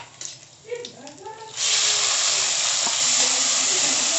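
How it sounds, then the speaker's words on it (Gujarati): Onions dropped into hot ghee in a pan hiss into a loud, steady sizzle that starts abruptly and holds close and continuous, after a few moments of quiet speech and small kitchen sounds. "ઘી મૂકીને આપણે પેલા કાંદા વધારશું"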